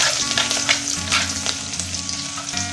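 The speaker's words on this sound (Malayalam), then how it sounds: "കടുക് പൊട്ടി വരുന്നുണ്ട്." Mustard seeds spluttering in hot oil in a home kitchen pan, a dense, close crackling sizzle with rapid small pops over a faint steady tonal hum.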